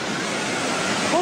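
Giant tsunami waves striking the Thai shoreline and lifting or breaking catamarans, sailboats and fishing boats, heard as a loud, continuous roaring wash of surging water that fills the whole clip.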